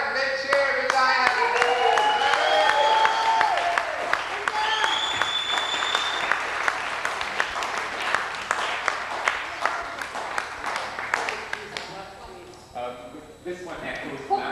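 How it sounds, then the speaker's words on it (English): Audience at a creative open mic night cheering and clapping as poet Diane Heron takes the stage, dense loud applause with whoops, gradually thinning toward the end. "Big cheer for Diane!"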